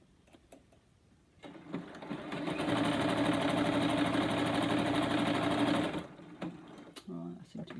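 A sewing machine stitches elastic onto fabric for leotard knickers, a fast steady mechanical whir that starts after a pause, runs about four seconds at close range, then stops, with soft handling noises before and after.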